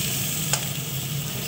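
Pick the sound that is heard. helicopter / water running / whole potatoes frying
whole potatoes frying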